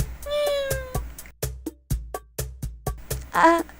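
A black cat meows repeatedly in the video game Dandelion, a string of short, clear, fairly close calls in an uneven rhythm, with a longer, higher meow near the end.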